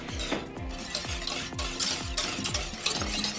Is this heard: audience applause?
no